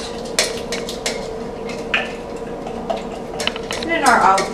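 Onion dropped into hot olive oil and stirred, with clattering spoon and pan knocks over a moderate sizzle, close by; a voice speaks briefly.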